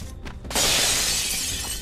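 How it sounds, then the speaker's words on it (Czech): Glass shatters in the video game Assassin's Creed 3: a sudden loud, bright crash that sustains as a dense burst of breaking shards, heard alone without talk. "Zničil jste sklo, hoši."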